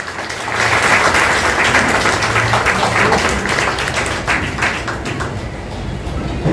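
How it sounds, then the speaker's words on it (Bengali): Audience at an assembly for Amarnath pilgrims breaking into sustained, loud clapping close by, the applause swelling quickly and then tapering slightly over several seconds. "স্টেজে আসবো সবাই, একটা হাততালি।"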